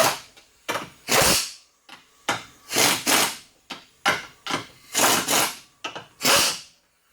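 An impact wrench fires in repeated short, loud rattling bursts, about a dozen with brief pauses between them, tightening front strut bolts on a 1997-2003 Chevy Malibu, close up with no talking.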